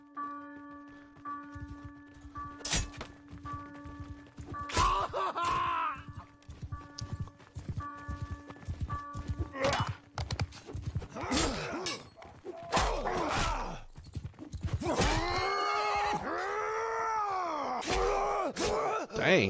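Horses galloping with rapid clip-clop hoofbeats in a Mount & Blade II: Bannerlord multiplayer battle, mixed with steady tonal chimes, clashes and pained groans, ending in loud shouts and whinny-like cries.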